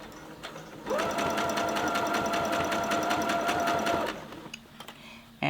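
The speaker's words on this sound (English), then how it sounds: "We're going to sew." A sewing machine runs in one steady burst of rapid, even stitching for about three seconds while sewing a lined zipper pouch, then stops, leaving quiet handling noises.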